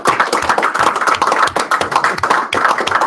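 A round of applause from a class, dense steady hand clapping up close for several seconds with no voices over it.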